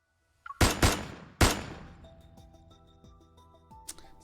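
Gunfire in the Love and Deepspace video game: two loud, close bursts of rapid shots, followed by lighter ringing tones and scattered faint pops.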